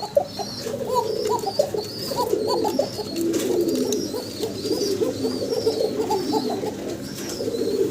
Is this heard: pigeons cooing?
yes